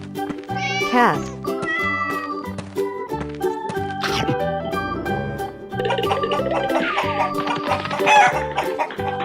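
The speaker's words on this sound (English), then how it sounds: "Cat." Several loud cat meows ring out over cheerful music, with clucky, squawking animal-like sounds around them.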